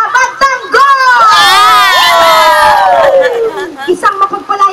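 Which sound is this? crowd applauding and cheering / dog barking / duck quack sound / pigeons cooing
crowd applauding and cheering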